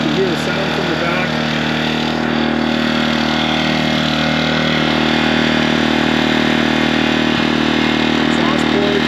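A Harbor Freight Predator generator engine runs steadily close by, an even mid-pitched droning hum with a constant rumble throughout, no speech.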